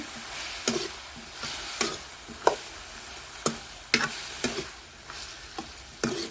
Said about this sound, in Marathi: एक चमचा काळा तिखट टाकते पाव चमचा हळद टाकते घरगुती मसाला टाकले मी चांगलं परतून घेते